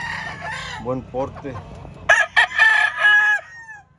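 Heroes Red Fox rooster crowing loudly and close, with a long drawn-out call after a brief burst of clucking and someone talking beforehand.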